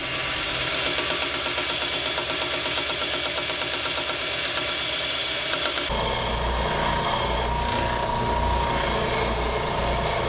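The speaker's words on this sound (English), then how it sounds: "After sanding the edges smooth" Steady, continuous abrasive rasping of sanding acrylic edges, unbroken for about ten seconds with a coarser, rougher texture in the second half.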